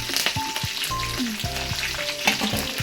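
Curry leaves hitting hot oil for a spicy home-style tomato chutney: steady, crackling sizzle throughout, broken by close spoon-and-pan stirring clatter and sharp pops, with no talk.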